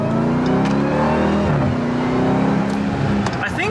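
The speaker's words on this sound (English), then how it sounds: "The Hellcats have one of the most pronounced supercharger whines from the factory" A Dodge Durango Hellcat's supercharged V8 revs and pulls, a loud rising engine note with a whine climbing alongside it, close by, as a voice speaks over it.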